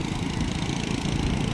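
A motorcycle engine at the Madhavpur fair runs steadily and close by, a continuous low rumbling drone with no voices over it.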